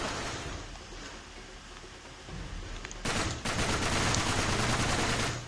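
Gunfire in the video game Uncharted 3, a quiet stretch followed by a dense burst of rapid shots that swells and continues to the end, with a faint watery background.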